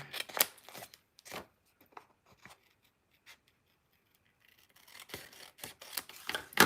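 A paper trimmer blade slices along the edge of a card in a few quick scraping strokes, with short gritty swipes at the start and end and a quieter gap between.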